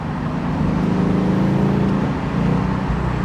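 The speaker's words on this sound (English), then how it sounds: "right now it's downshifting and getting ready" A 2024 Ford Mustang on a highway, its engine a steady, loud, close drone that swells slightly as it accelerates, with road and tire roar underneath.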